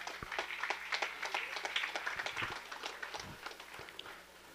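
A crowd at an outdoor street-paving inauguration in a village in Mexico gives a pastor a welcoming round of applause, a faint, steady patter of many hands over a low background hum that fades toward the end.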